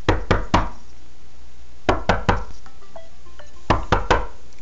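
Knocks imitated on a hard surface like a window, given as three groups of about three sharp, close raps spaced out with pauses, loud and near with no talking.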